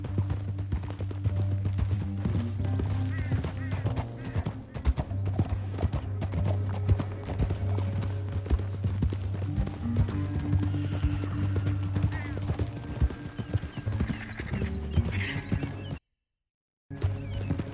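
Rhythmic clip-clop of horse hooves at a steady gallop in Red Dead Redemption 2, loud and close over a low rumbling bed, with a brief whinny; sound drops out near the end.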